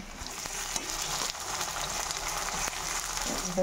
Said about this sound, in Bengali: আর এখানে পেঁয়াজ ভাজা বসিয়েছি